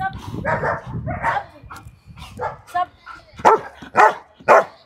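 Dog barking during obedience training outdoors: several loud close barks and yips, sharper and more frequent toward the end, with people talking and giving commands underneath.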